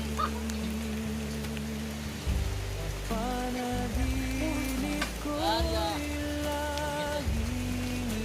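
Steady rain falling during the first rain of May in the Philippines, a constant hiss of drops on surfaces with a low vehicle-like hum underneath and scattered tonal sounds, no clear speech.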